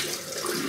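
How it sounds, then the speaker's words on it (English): Tap water gushes into a plastic shaving bowl in a brief, steady, close rush with no pauses and no voices. "Put some more water in there."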